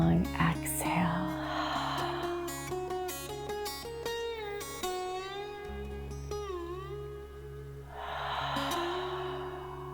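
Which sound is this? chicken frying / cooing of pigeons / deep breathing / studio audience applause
deep breathing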